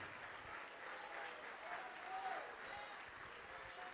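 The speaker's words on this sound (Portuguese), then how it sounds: "vamos aplaudir mais" A church congregation applauds during a Portuguese-language worship service, a steady wash of clapping at moderate level through the whole span, with a few faint voices mixed in.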